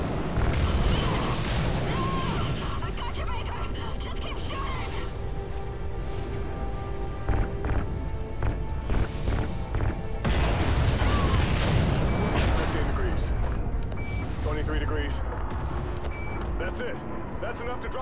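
Gunfire and explosions in the Call of Duty: Ghosts video game, a dense, continuous roar of shots and booms with bursts of sharp impacts, mixed under shouted voices and game dialogue throughout.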